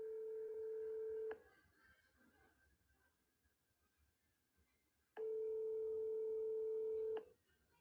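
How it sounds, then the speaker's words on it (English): A phone call to a Minneapolis, Minnesota childcare center number rings out: two long, steady electronic ringback tones separated by a quiet pause, clear and isolated on the line. "listen to where this phone number goes to when you call this childcare center"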